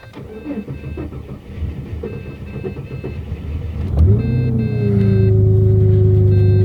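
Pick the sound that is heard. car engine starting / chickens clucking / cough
car engine starting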